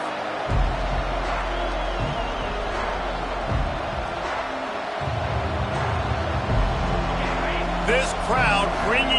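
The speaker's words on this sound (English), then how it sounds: "This crowd bringing an ear-splitting welcome to their visitors." Stadium crowd at an American football game keeps up a loud, continuous roar throughout, with bursts and swells of cheering while a commentator talks over it.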